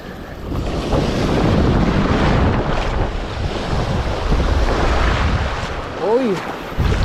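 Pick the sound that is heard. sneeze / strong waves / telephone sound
strong waves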